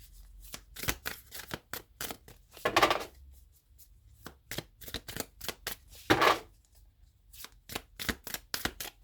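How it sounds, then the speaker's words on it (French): Oracle cards being shuffled and drawn, repeated riffling and flicking bursts with two longer shuffles, soft and close, no talk. "Je rajoute une petite carte avec l'oracle des créateurs sacrés"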